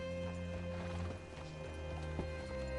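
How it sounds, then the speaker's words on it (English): Horse hooves clip-clop at a steady walking pace in Red Dead Redemption 2, quiet and mixed under a sustained musical drone with a soft knock or two. "Hitch your horse up here."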